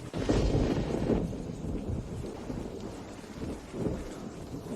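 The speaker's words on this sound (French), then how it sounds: "Général, ce soir il pleut fort." Heavy rain pours steadily with low, rolling thunder rumbling through it, loudest at the start and swelling again later, a dense, continuous storm wash with no voices.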